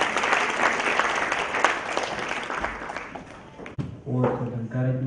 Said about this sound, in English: may we please clap for him once again